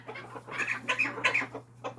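A small Silkie chicken clucks close by in a backyard in winter, a run of soft, repeated clucks in quick bursts over a low steady hum.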